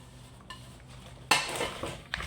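Tomatoes and garlic being stirred in a pan, a sudden close metallic scrape and clatter of utensil against pan with a light sizzle after a quiet start.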